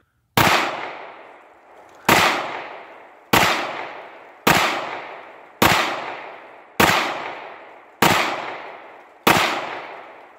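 Eight sharp gunshots fired one at a time at an outdoor shooting range, loud and close, spaced about a second apart with short decaying echoes after each, and no talking between them.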